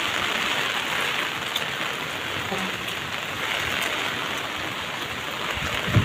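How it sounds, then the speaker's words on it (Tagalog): Heavy rain pouring steadily in strong wind, a dense, loud, unbroken hiss close around with no pause. "Pero ang lakas pa din ng ulan."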